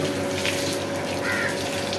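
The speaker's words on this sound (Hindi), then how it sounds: "बकरा जो है हमने नहाना जो है इसको शुरू कर दिया बकरे को" Water splashing and running while a goat is bathed, a steady pouring gush with a low pump-like hum underneath and a bird cawing faintly in the background, no speech.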